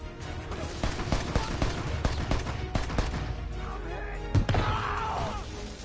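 Rapid gunfire bursts in the PS4 video game Left Alive, crackling bursts and impacts throughout with a crash near the end, under a calm synthetic warning voice and game noise.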